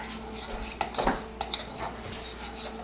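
Brownie batter being stirred in a bowl, with a spoon clinking and scraping against the sides in irregular taps and swishes, close and moderately loud, with no talking.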